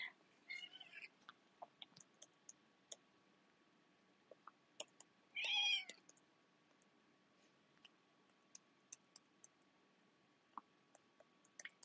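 A cat meows once in a quiet room, a short, clear mid-pitched call amid scattered small clicks and taps.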